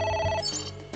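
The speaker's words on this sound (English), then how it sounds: "Oh. It's ringing again." A telephone rings in the video game AI: Somnium Files, a bright electronic trill that cuts off partway and gives way to a low tonal layer and a fainter follow-on ring, fairly quiet.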